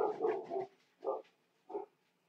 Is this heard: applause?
no